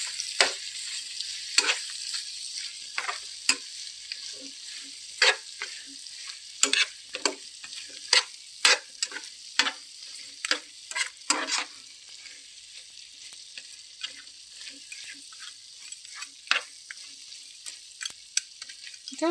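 Chicken fry cooking in a pan with cumin and coriander powder, a low steady sizzle under repeated scraping and clinking stirs from a spoon, irregular and close, with no talking.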